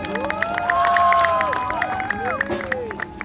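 A festival crowd at a palanquin procession in Tisgaon claps and cheers together, a dense and sustained wash of applause with voices mixed through it and drawn-out tones sliding overhead.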